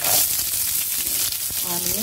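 Onions tipped into a pan of oil where chana dal and urad dal are frying for puri masala, giving a steady close sizzle and crackle with a brief stirring clatter near the end.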